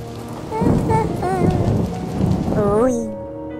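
Steady rain pours down outside a carriage arrival at a manor in the horror video game Lamentum, a dense hiss with soft tonal ambience layered beneath it.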